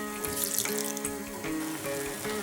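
Water pours steadily into a pan of jaggery, a continuous splashing run with a faint tonal hum underneath and no talking.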